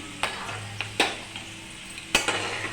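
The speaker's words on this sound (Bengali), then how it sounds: "আসলে কম তেলে ভাজতে হচ্ছে" Quiet, steady pan frying in a little oil with a soft crackle, broken by a few sharp clinks of a utensil against the pan.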